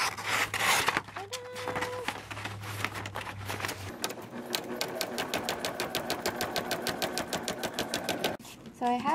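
A sewing machine stitching fabric, starting after some handling rustle and then running in a fast, even rhythmic chatter for several seconds before stopping, with a person's voice heard around it.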